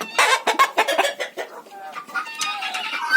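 Chickens clucking loudly and close by in a village farmyard in winter, a busy run of overlapping clucks and squawks with a drawn-out call near the end.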